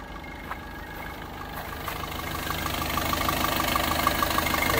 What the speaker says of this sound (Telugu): ఇంజన్ కూడా చూస్తున్నారు కదా, చాలా సైలెంట్గా ఉంది.